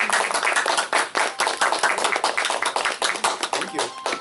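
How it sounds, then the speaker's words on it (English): An audience claps in a lively round of applause, close and fairly loud, individual claps audible in a brisk rhythm. "And let's give a round of applause to Satish."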